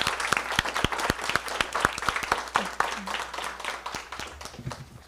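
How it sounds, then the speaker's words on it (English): Steady audience applause fills a board meeting room in honor of Emerson Duck, a regional champion, with dense, continuous clapping from many hands and no talking. "So let's give Emerson a round of applause."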